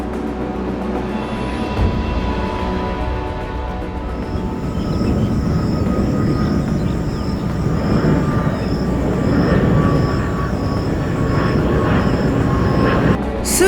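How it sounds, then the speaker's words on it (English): An airliner taxis toward runway 5L at Chiang Kai-shek Airport in Taiwan, with a low, steady engine drone that swells after a few seconds and carries a thin, high whine above it. "As the plane taxied down the runway, it went to runway 5L"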